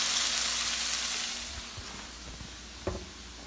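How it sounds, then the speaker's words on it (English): Asparagus sautéing in a pan gives a steady, bright sizzle that gradually softens as it is stirred, ending with a single dull knock against the pan. "So I'm just going to give that a stir."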